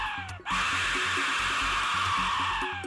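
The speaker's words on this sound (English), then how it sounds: "The EAS sound is also comparable to the death whistle." An Aztec death whistle lets out a loud, piercing, scream-like shriek that starts abruptly and holds steady for a few seconds, with low pulsing tones underneath.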